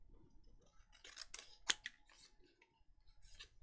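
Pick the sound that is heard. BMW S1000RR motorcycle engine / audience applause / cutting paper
cutting paper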